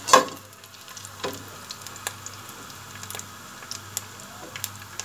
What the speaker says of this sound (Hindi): अब हम इसको गोल्डन ब्राउन होने तक फ्राई करेंगे प्याज को।